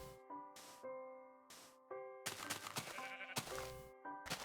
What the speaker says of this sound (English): Oh, look at that sheep.